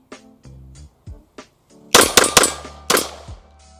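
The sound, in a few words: Walther PDP Steel Frame Compact pistol firing a magazine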